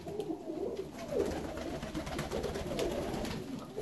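Fancy Rostov pigeons coo steadily in a soft, close chorus of repeated low throaty calls, with overlapping birds cooing continuously throughout.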